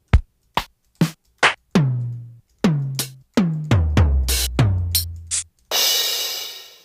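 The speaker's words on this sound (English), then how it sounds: "So in Ableton there's also a DMX kit," Oberheim DMX drum machine kit played in Ableton: a run of isolated hits, from punchy kicks and toms with decaying pitched tails to snares and claps, ending in a long noisy cymbal crash, each sounded alone and loud.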